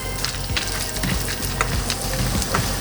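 Shaved and diced almonds sauté in a pan for Lebanese hashweh rice stuffing, making a dense, continuous close sizzle with light crackling pops and occasional stirring scrapes, no voices.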